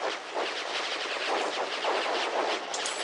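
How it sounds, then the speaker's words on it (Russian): Katyusha rocket launcher firing in the Hills of Steel tank game, a rapid, dense volley of crackling launch bursts in quick succession, steady and moderately loud with no talk. "Смотрите, Катюша стреляет вверх, в итоге ракетки назад же прилетают."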